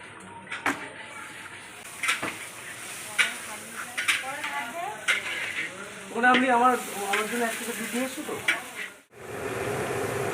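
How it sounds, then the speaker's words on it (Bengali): Chicken sizzles and crackles in a hot pan with occasional utensil clinks, while voices talk intermittently over the frying, in a home kitchen preparing a birthday meal. "এখানে দেখো চিকেন ভাজা হয়ে গেছে চিকেন চাপের"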